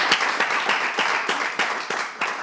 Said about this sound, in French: Est-ce qu'on peut applaudir Ness?